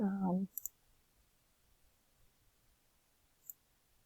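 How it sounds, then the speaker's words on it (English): Two quick mouse clicks land close together just after a voice stops, followed by a lone faint click a few seconds later, all in near silence during Expresso editing. "here I'm just clicking on Add Story Block"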